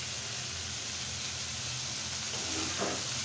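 Boiled noodles dropped into a pan of softened tomatoes, giving a steady, close sizzle and hiss of frying throughout with a brief stir near the end.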